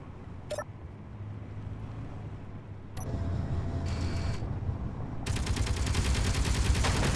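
Weapons fire erupts during an attack in the video game Space Engineers, with sharp bursts early on giving way to a dense, loud rattling barrage that builds toward the end, alone without talk.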